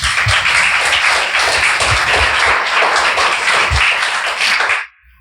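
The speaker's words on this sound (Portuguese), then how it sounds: "Você pode aplaudir a Jesus?" A church congregation applauds during a sermon, with dense, steady clapping filling the room for about five seconds before it cuts off abruptly.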